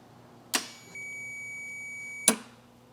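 Multimeter continuity tester on a contactor circuit: two sharp clicks about 1.7 s apart with a steady electronic tone sounding between them, close and moderately loud over a quiet background.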